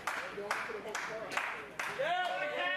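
A professional wrestling crowd claps and cheers in rhythmic bursts, roughly regular spaced claps rising under a commentator's voice talking over the arena noise.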